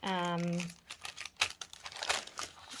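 Baking paper crinkles and rustles in short, uneven bursts close up while being handled for a journal, following a brief voiced sound at the start.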